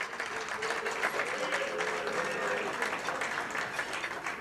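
Applause from the audience at a citizen of the year dinner breaks out and continues throughout, a moderately loud, steady patter of many hands clapping with a faint voice underneath.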